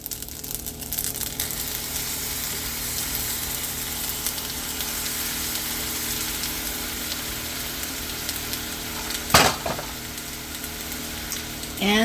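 Drained spaghetti being tossed with a little sauce and cut-up hot Italian sausage in a pan gives a steady soft sizzle and stirring rustle, with a brief louder scrape near the end.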